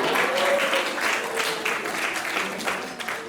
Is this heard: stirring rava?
no